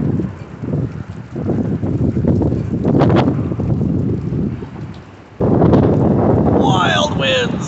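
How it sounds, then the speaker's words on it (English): Strong gusting wind roars and buffets the microphone steadily, with a sudden louder burst partway through and a few faint voices underneath. "Wild winds!"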